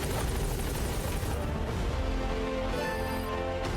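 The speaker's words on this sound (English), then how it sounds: "Your support helicopter has arrived." A support helicopter from Metal Gear Solid V arrives as a steady, loud rotor drone that fills the whole stretch, with a rising whine and hum layered on top partway through.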